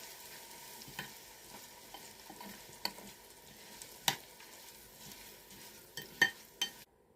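Dried chilli and hot oil mixture being stirred for chilli oil: soft, quiet scraping and faint sizzling with scattered light clinks of a spoon against the pan, growing slightly busier toward the end.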